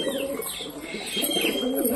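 A pet pigeon cooing while drinking water at home, soft repeated throaty coos close by, with faint chirps from other birds in the background.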